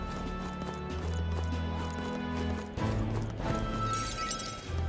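Clip-clopping hooves of a horse-drawn carriage in the video game Metaphor: ReFantazio, a steady rapid trot over a continuous rumble of wheels and a busy city backdrop.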